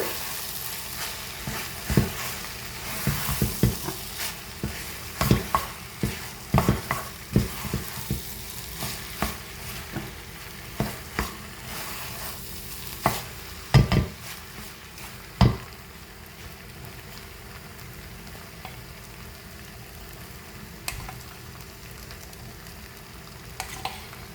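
Chicken kothumai being stirred in a pan, with a steady background sizzle of frying broken up by repeated sharp scrapes and clatters of the spoon against the pan.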